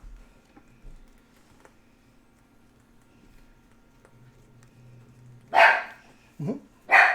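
A dog barks three times near the end, loud and close, after a quiet stretch of faint room noise and soft taps during a board game.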